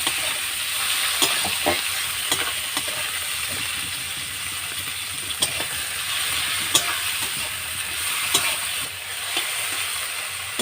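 Onions, slit green chillies and tomatoes frying together in a pan for Bengali khichuri, a steady loud sizzle with repeated scraping stirs and occasional sharp spatula knocks against the pan.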